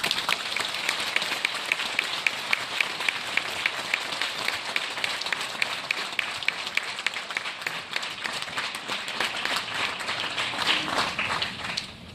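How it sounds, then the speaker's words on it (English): Students being inducted into an honor society receive a long, steady round of applause from the audience, with crisp individual claps through a continuous patter. "Dylan Dicey, we're going to give them a round of applause."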